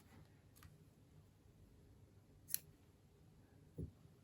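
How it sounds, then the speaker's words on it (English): A single quick snip of scissors cutting yarn while joining crocheted granny squares, faint and close in a quiet room, with a small clunk shortly after as they are set down. "I'm going to cut the yarn"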